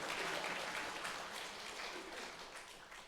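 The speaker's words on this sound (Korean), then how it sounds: "옆에 분에게 박수로 격려합시다." A church congregation at a Korean revival service claps to encourage one another, a faint, distant-sounding patter of many hands that runs steadily and slowly fades, with no voices over it.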